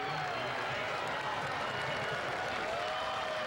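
A basketball crowd at a high school game between St. Benedict's and St. Anthony's roars in a steady, dense wash of cheering and noise that fills the gym, with no single voice standing out.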